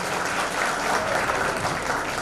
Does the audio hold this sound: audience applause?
yes